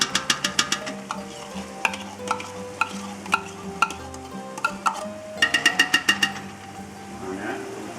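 Pasta sauce scooped out of a large cooking pot, with repeated sharp scraping clicks of a utensil against the pot in quick bursts, close and fairly loud, over a low kitchen hum.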